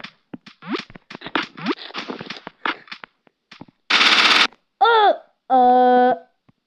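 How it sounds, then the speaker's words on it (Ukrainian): In a zombie apocalypse video game pitting animals against monsters, a machine gun rattles out a loud, harsh burst after a stretch of choppy voice sounds, followed by short electronic tones. "Активувати кулемет."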